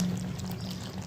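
Soybean kofta gravy simmering on the stove, a steady low bubbling hiss that continues evenly and fairly close, with no voices over it.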